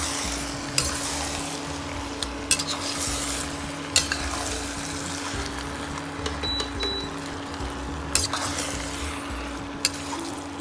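Spicy Maharashtrian shrimp rice is stirred in a hot pan, a steady sizzle with soft scraping strokes and periodic clicks of the spoon against the pan, heard alone at moderate level.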